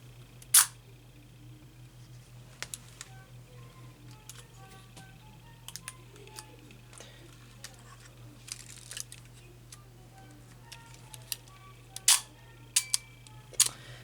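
A Zeiss Ikon Contaflex camera is wound and its shutter mechanism works, giving sharp mechanical clicks and a soft, faint ratcheting scattered over a quiet background with a steady low hum.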